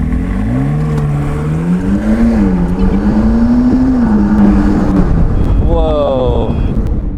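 A 2016-era McLaren supercar engine under light throttle while stuck in limp mode, a steady loud drone that rises and wavers, then drops away near the end as a high electronic chime sounds.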